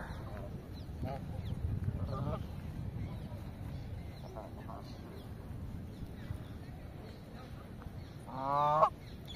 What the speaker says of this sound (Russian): Сколько канадских гусей.